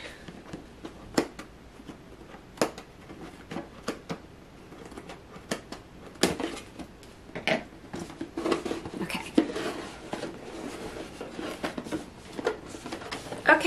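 Scissors cutting into a cardboard crochet and knitting subscription box: scattered close snips, scrapes and rustling packaging clicks that grow busier toward the end, fairly quiet, with no talking.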